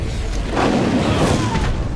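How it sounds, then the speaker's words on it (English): Cannon fire in Dungeon Siege III during a bombardment in the mines, heard as a sustained rumbling boom that swells and rolls on for about two seconds, loud and dense, with no clear separate shots. "in the meantime we are going to be bombarded by cannons"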